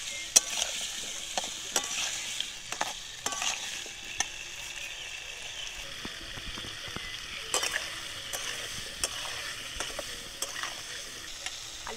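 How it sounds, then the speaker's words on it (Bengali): Washed potatoes frying in hot oil with salt and turmeric, a steady close sizzle broken by frequent spoon scrapes and taps as they are stirred, no talking. "ওই তেলের মধ্যে ধুয়ে রাখা আলুগুলোকে দিয়ে দেব"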